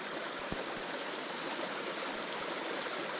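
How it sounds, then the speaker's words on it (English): A small creek beside a trail, fed by joining streams of cold water, flows and trickles steadily at close range, a constant soft wash with a few brief gurgles and no voices. "let's feed in together to make a nice sized little creek"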